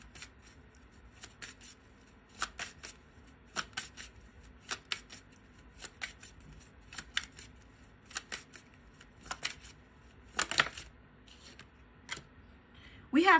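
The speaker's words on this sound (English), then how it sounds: "Let's pull another card for Libra." Tarot cards are shuffled and drawn, giving soft, quiet papery flicks and rubs in scattered bursts, with a louder rustle near the end.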